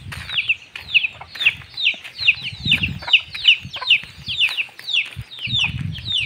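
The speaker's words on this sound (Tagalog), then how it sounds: "Pupuntahan naman natin yung lagang manok, yung chicken broiler." A flock of broiler chickens clucking and peeping continuously, many overlapping calls close by, with faint low rumbling underneath.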